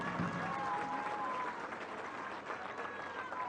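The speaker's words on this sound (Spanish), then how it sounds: "Un aplauso." Crowd applause for military engineers at a public housing event in Guadalupe, Zacatecas, a steady dense wash of clapping, moderately distant, with a few voices mixed in.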